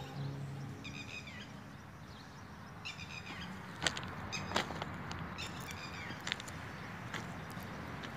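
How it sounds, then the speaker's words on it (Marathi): A bird calls from a tree on a quiet morning near a small mosque, its short bright chirping trills coming in a few separate bursts over soft outdoor background noise. "पक्ष्याचा आवाज येतोय"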